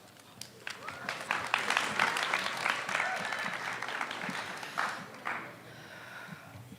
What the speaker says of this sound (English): Applaud the poet, not the scores.